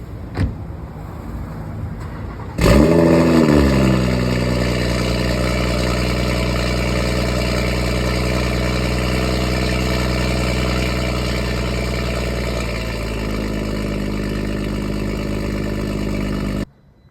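A modified BMW M140 with a stage 2-plus tune and high pressure fuel pump cold-starts with a sharp starter whirr and loud catch, then settles into a steady, droning high idle that eases slightly lower before cutting off.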